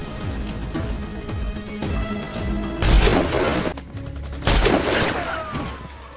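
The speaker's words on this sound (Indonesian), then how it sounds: "baku tembak pun kembali terjadi" Snipers and approaching soldiers exchange gunfire in a clash with ISIS fighters. Sharp shots and heavier booming bursts crack over a rumbling background, with two loud volleys standing out.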